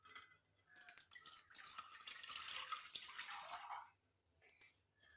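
Water is poured from above into a pan on a lit stove while making French fries. The loud, splashy pour lasts about three seconds, then trails off into a few faint drips.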